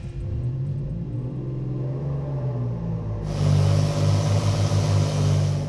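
Boosted 4.3L V6 engine running on a dyno, a steady deep rumbling idle that rises into a louder, fuller drone partway through.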